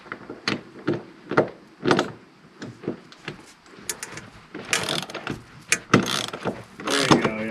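A hand ratchet wrench works on a bolt of a 1980s camper van, clicking in short uneven bursts with pauses between strokes, close by, followed by louder metallic rattling toward the end.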